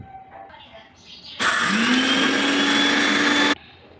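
A mixer grinder grinds spice powder for tamarind chili, starting abruptly and roaring loudly for about two seconds with a rising whine as the motor spins up, then cutting off into quiet room sound.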